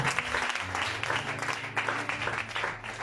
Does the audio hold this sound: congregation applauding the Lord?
yes